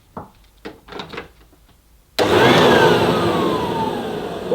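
A Vorwerk Kobold VK117 vacuum cleaner switches on with a sudden loud burst that settles into a steady, close whirring roar with a rising whine, following a few soft handling knocks.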